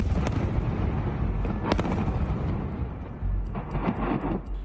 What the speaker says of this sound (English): A series of explosions in the Syrian capital of Damascus this week were among the many Israeli airstrikes across the country